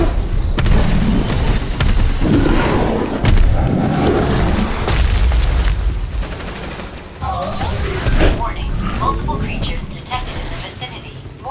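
Sustained gunfire in a sci-fi post-apocalyptic online shooter, with bursts and booms as players fire on a monster, loud and continuous with some speech mixed in.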